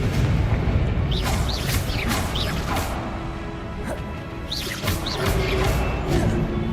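Confringo fire spell blasts in Hogwarts Legacy, booming bursts layered with whooshing, chirping magical effects over a dense, loud wash of game sound, with a second cluster of bursts near the end.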